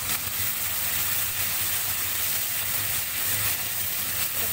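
A paste of cashew, poppy seed and ginger frying in a pan makes a continuous even hiss, steady and close throughout with no other sounds.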